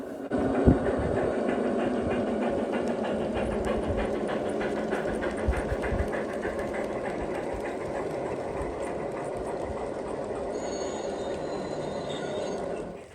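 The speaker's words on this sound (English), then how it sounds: "Here you can see the Super Chief stalling again as the lumber train passes by." A G scale model lumber train rumbles past on an outdoor garden railroad, a steady, continuous rolling clatter of wheels over track at moderate volume, with a brief higher whine joining near the end.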